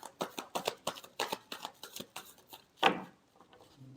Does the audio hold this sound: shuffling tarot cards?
yes